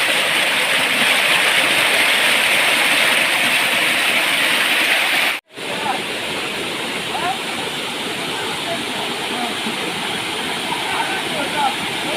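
A waterfall on Sathuragiri mountain roars in a loud, steady, close wash of rushing water that cuts out for a split second before resuming just as strong.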